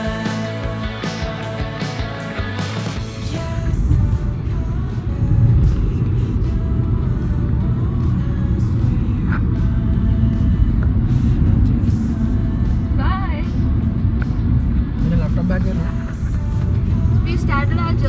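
A car travelling the road from Mumbai to Nashik gives off a steady, loud low rumble of engine and tyre noise throughout, with someone talking over it.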